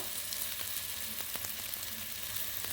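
Potatoes frying in oil in a pan while a Bengali chicken curry with whole spices is cooked: a steady, close sizzle runs throughout, with a few faint clicks. No one speaks.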